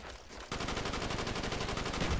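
Rapid automatic gunfire from a Mac 11 in Call of Duty: Black Ops multiplayer, a fast continuous burst of closely spaced shots starting abruptly after a brief quiet moment.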